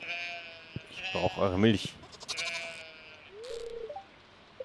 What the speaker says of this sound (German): Die Schafe produzieren keine Milch.